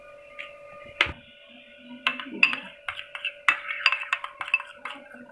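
Spoon stirring mayonnaise, ketchup and chili sauce in a bowl: a run of close, sharp clinks and taps against the dish, irregular and quickening, with a steady faint hum underneath and no talking.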